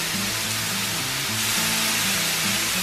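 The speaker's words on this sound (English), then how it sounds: "So we're gonna cook the bacon and we're gonna make the meat." Bacon fries on an inexpensive home tabletop grill, a constant loud broadband sizzle hissing steadily throughout with a low hum wavering underneath.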